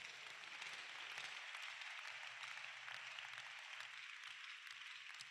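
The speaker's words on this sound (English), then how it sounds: "Can you clap for this great God?" A church congregation claps together at a midnight worship session, a dense, steady wash of applause that holds at an even level from start to finish with no talk over it.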